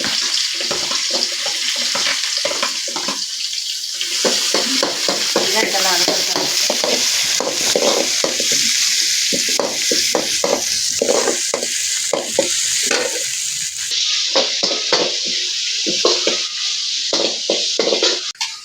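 Onions frying for a prawn curry in a pot on a wood-fired stove, with a loud continuous sizzle and repeated rhythmic scraping stirs of a ladle, heard close up throughout.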